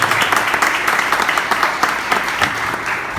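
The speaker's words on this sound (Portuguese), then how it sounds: "Uma salva de palmas para Jesus." A church congregation applauds loudly, with dense, steady clapping from many hands filling the room throughout.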